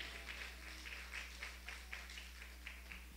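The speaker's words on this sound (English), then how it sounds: "Would you clap those hands together for the Lord Jesus while you're saying amen" A church congregation claps along in steady rhythmic bursts, faint and a little distant, over a low constant hum.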